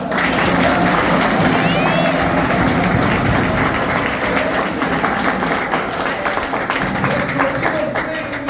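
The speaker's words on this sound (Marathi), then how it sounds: "म्हणून टाळ्या वाजवा" A crowd at a public address breaks into sustained applause, a dense, loud wash of many hands clapping at once that gradually thins toward the end.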